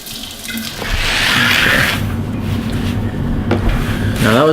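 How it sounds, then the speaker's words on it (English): Water gushes from a tap at a restroom foot wash used for wudu at a prayer space, a steady close rushing splash with a few clunks, and no talk. "turn on water"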